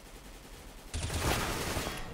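Automatic sniper rifle fire in a competitive Counter-Strike match on the Cache map: a sudden loud burst of rapid shots that starts after a quiet stretch and carries on to the end.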